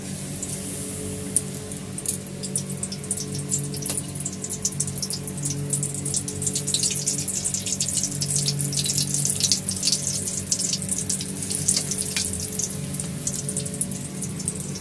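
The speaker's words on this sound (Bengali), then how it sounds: "এই বড় বড় সাইজের লঙ্কাগুলো এই ব্যাটারের মধ্যে এমনি করে চুবিয়ে তেলের মধ্যে আমরা ফ্রাই করব" Big green chillies dipped in batter fry in hot oil with a dense, crackling sizzle of fine pops and spatters, steady and close for the whole stretch, without any talking.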